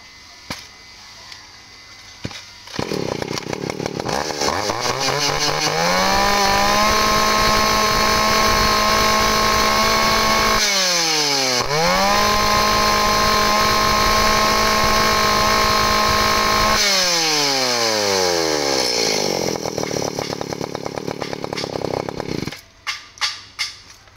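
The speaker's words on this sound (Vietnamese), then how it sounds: "T1 là con Echo, con này là Echo 362 ha, nồng 39 ly nha anh em, 36cc, dòng cưa khai thác tầm trung" Echo 362 chainsaw with a 36cc engine, a mid-range logging saw, started and revved to a loud, steady high-pitched scream, dropping briefly to idle between two long full-throttle runs before winding down.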